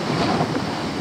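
Sea waves rolling onto the beach at Eforie Nord in October, a loud, steady rushing wash mixed with wind buffeting the microphone, with no voices.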